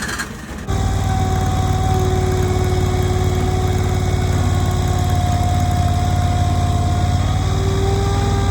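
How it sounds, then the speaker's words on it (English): Engine of a Chinese LR23 skid steer idling at close range, a loud steady drone with a constant humming tone that holds unbroken for several seconds after a brief quieter start. "This is the skid steer here, it's an LR23 Chinese skid steer."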